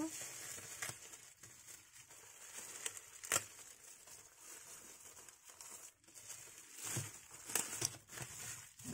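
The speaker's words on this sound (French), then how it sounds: "je suis en train d'embarquer le ruban" Tissue paper and ribbon crinkle and rustle while a gift is wrapped indoors. The sound is a soft, continuous paper crumpling with brief sharper crackles, close and fairly quiet, and a voice speaks now and then.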